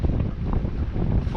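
Steady wind buffets the microphone aboard a small electric test boat cruising at about four knots into a headwind, a continuous low rumble with brief voice sounds near the end.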